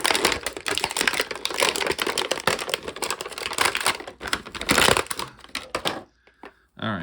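Plastic packaging ties being worked free from a Masters of the Universe Trap Jaw action figure, with close, busy crinkling, snapping and clicking plastic noises running for several seconds before a quiet pause at the end.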